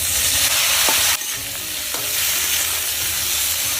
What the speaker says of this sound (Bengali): আলু ভালো করে বাইজে নিচ্ছি